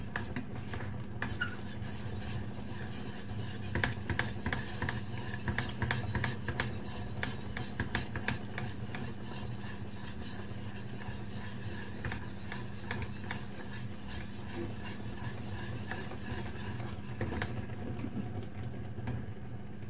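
A spoon stirs milk into macaroni and cheese in a pot, giving soft continuous scraping and occasional light clinks against the metal, close up and fairly quiet throughout.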